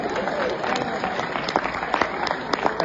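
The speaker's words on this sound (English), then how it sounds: "That's a little bit more applause than they deserve." Audience applause at a concert, a dense steady clatter of many hands clapping, fairly loud and continuous throughout with a few sharper claps standing out.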